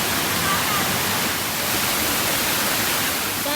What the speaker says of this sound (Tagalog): There's a lot of water falling in our head